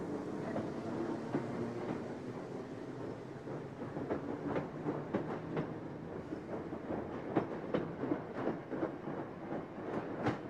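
A train rolls steadily along the rails, with a continuous rumble and repeated clicking wheel beats that grow busier toward the end.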